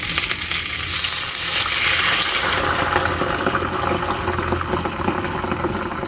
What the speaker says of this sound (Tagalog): So, lagay na natin yung prito. Lagyan natin ng mainit na tubig.